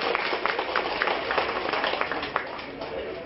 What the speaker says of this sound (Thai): ปรบมือหน่อยครับพี่น้องครับ